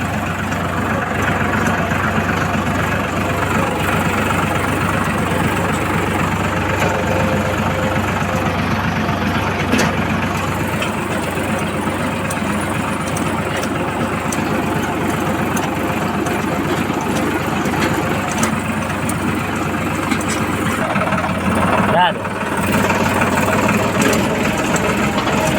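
A mini tractor engine runs steadily and loudly throughout, a continuous low mechanical drone with a brief dip in the sound partway through.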